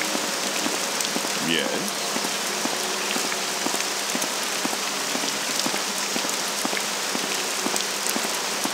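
Steady rain pours down continuously in the video game Morrowind, a dense hiss of drops on surfaces throughout, with a brief spoken word early on.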